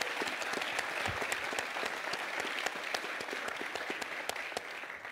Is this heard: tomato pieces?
no